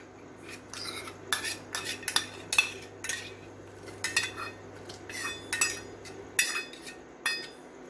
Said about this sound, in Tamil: நெய்யில் ஆல்ரெடி வறுத்து வச்ச பாதாம் சேர்த்துடலாம்.